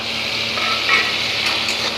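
Tomatoes going into a pan of frying onions with coriander, cumin, turmeric and Kashmiri chilli powder, giving a steady close sizzle with light stirring scrapes and no talk.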